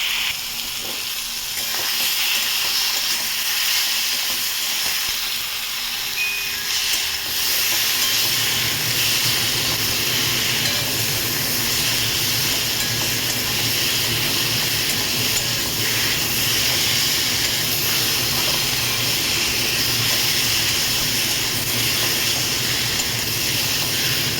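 Masala seasoned with cumin powder and salt being stirred and fried in a pan for a fish and potato dish, a steady loud sizzle and hiss that rises and fills out after the first few seconds, with no talking.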